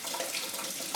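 Warm water runs steadily from a kitchen tap while bread dough is being mixed, a continuous close rushing splash with small fluctuations and no talking.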